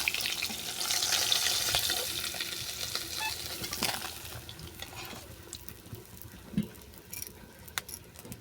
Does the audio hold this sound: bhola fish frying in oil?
yes